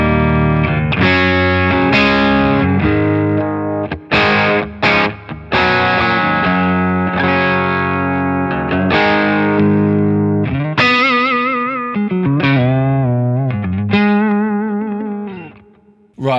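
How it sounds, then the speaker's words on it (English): A Fender '55 custom shop Stratocaster played straight into a Super Kraken amp with no pedal, loud driven chords and ringing single notes with bends and brief pauses, fading out at the end. "I've got the guitar 55 custom shop Strat going into the Super Kraken. No pedal engaged. This is how it sounds."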